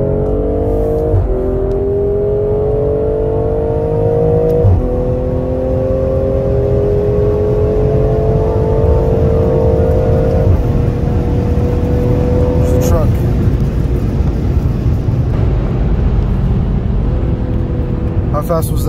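A BMW M340i xDrive pulls hard on the Autobahn during a 188 mph top-speed run, its engine note climbing steadily through several gear changes, loud and continuous from inside the cabin.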